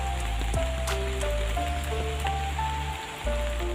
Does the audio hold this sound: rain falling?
yes